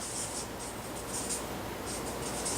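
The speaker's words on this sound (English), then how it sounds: "Let me write that down." Pen or pencil writing on paper, a steady continuous scratching with short bursts of strokes, close and clear, with no talk over it.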